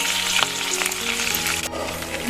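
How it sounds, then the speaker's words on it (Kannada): Vegetables for kadai paneer fry in a pan with a steady close hiss and crackle, a few soft clinks of stirring mixed in. "ನೋಡಿ ಇದು ಫ್ರೈ ಆಗ್ತಾ ಇದೆ"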